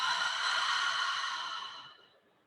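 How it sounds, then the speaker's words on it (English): One big, breathy yawn lasts a couple of seconds, soft and close, and fades out at the end, with no other sound. "now let out this big yawn so you could expand your jaw"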